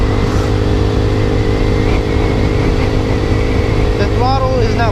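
Small-engine roar of a Boom Vader Grom-clone minibike with a 105 main jet, held at full throttle, loud and steady throughout, with a brief pitch-sweeping whine near the end.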